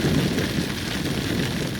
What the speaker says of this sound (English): my advice for riders who really want to ride in the rain, like what I'm doing right now